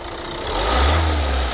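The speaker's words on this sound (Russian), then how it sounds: "А ну погазуй резко!" A car engine with a knocking fuel injector is revved sharply during diagnosis, a loud close mechanical roar that swells steadily and holds high, with no talking.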